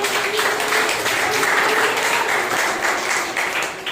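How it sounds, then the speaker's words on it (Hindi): Congregation applauding at a Sunday church service: dense, steady clapping from many hands filling the room, loud and sustained throughout, fading slightly at the end. "जोरदार ताली बजाइए।"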